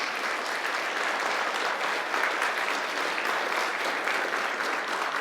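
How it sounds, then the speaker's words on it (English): Steady, dense applause from a congregation at a spiritual community gathering fills the room evenly for several seconds with no break. "Please give them a round of applause"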